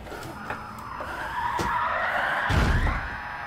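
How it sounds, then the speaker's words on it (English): Tires squeal and skid under a revving engine during a car burnout in the video game Gran Turismo Sport, a rising screech with a few sharp thumps, building louder near the end. "Hear that burnout."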